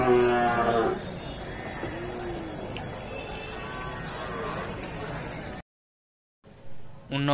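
Native cattle at a busy weekly cattle market in Matrapalli, Tirupattur district, lowing in drawn-out moos near and far over a continuous crowd murmur, with people talking throughout and a brief gap in the sound near the end.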